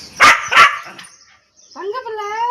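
A puppy gives two sharp, close barks followed by a longer whining yelp, with a voice speaking around it.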